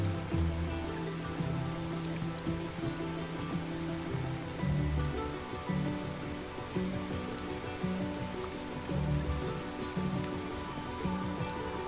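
Steady rain falls in a Skyrim game scene, a continuous pattering wash with low rumbling water undertones, moderately loud and with no voices.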